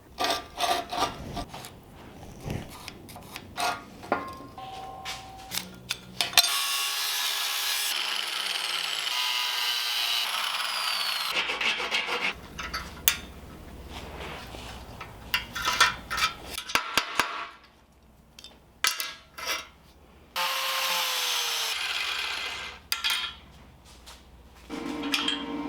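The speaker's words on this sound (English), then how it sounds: "I'm gonna use this salvaged hinge and start by cutting it down." Salvaged metal hinge being cut down with a power tool for a mini rocket stove part, giving long sustained grinding-cutting passes broken by short pauses and handling clatter, loud and close.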